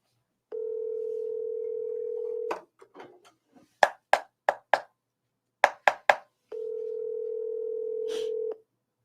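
A phone call to a realtor: a steady dial or ringback tone plays for about two seconds, then clicks and short keypad-like beeps follow in two quick bursts, and the steady tone returns at the end, with no talking.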